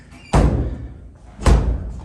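The front door of a lower-unit apartment in a Detroit multifamily house thuds twice, two close, solid knocks about a second apart with a low hollow body, and no talking.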